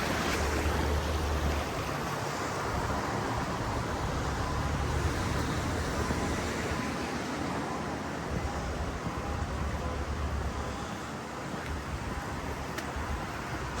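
Water of Chippewa Creek runs in a steady, broad rush beside a bike path, moderately faint and continuous with no talk.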